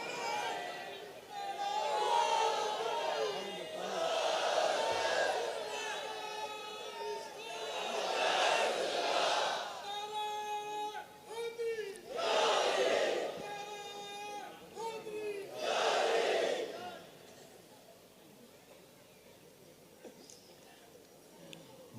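A gathered crowd shouts slogans in unison, in loud, repeated bursts of massed voices separated by short pauses, fading toward the end.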